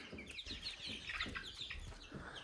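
Chickens cluck steadily in a basement brooder setup, several birds chattering and peeping together at close range, a busy continuous flock sound with no voices over it.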